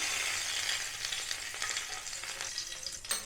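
Golden fried eggs go into a hot kadai for an egg bhindi masala, a soft dense sizzle with a few light scrapes and clinks, close but fairly quiet, with nobody speaking.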